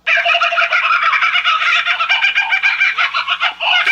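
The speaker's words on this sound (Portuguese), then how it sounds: "Eu sempre ouvia esse som desse pássaro em filme e não sabia que o nome chamava coca-burra" Kookaburra call played from a phone app, a loud continuous burst of rapid cackling, laughing bird notes that rise and churn for several seconds.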